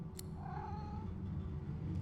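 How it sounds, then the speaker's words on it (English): A cat in the fantasy role-playing game Divinity: Original Sin 2 gives a soft, drawn-out purring meow over a steady low game ambience, faint and close, with a brief sharp click near the start. "The cat begins to purr and rub itself on your ankles."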